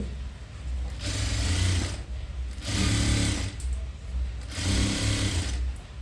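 A sewing machine stitches dress patches together in three distinct bursts, each a second or so of rapid, close mechanical chatter separated by short pauses, with no voices.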